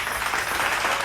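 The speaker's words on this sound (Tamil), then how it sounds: "கைத்தட்டி கொடுத்து ஆமென்." A church congregation applauding during a Sunday Tamil service, a brief dense wash of many hands clapping together, loud and close, with no pauses.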